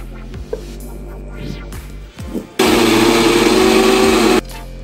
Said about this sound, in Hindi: अब मैं इसे पीस लेती हूँ।